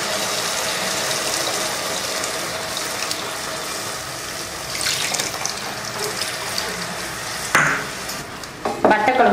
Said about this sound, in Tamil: இப்போ நம்ம புளி எடுத்தோடய அந்த புளியை கரைச்சி இதில் ஊற்றிக்கலாம்.